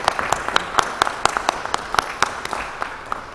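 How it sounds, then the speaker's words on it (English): Attendees at a Tennessee Tech Board of Trustees meeting clap after a nomination is accepted, a small group's sparse, fairly quiet applause with distinct individual claps rising in a loose rhythm in the room. "That's the reason they're clapping."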